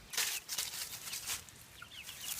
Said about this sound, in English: Chickens are being moved daily.